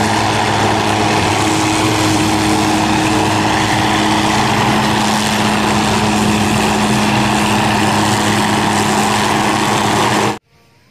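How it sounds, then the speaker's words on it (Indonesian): Toy helicopter whirring steadily with a buzzing, engine-like motor hum and a constant tonal drone, close and loud for about ten seconds before cutting off abruptly. "ini helikopter."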